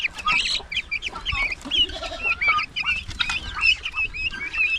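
Chickens and young turkeys on a rural farm cluck and chirp busily close by, with overlapping calls and squawks coming in irregular bursts.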